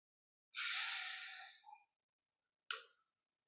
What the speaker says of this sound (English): I encourage you to take a breath